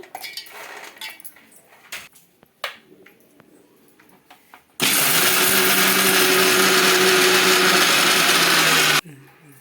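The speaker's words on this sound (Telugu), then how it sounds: "ఇంకా చట్నీకి అయితే పచ్చి కొబ్బరి అయితే ఫస్ట్ మిక్సీకి అయితే పడుతున్నానండి" A kitchen mixer grinder whirs loudly and continuously for about four seconds as it grinds fresh coconut with a few peanuts for chutney, after a stretch of quieter clinks and handling noises.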